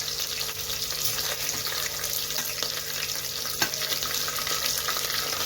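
Onions, curry leaves and dried chilies fry in hot oil, giving a steady close hiss and crackle with an occasional small pop or stir, and no voice is heard.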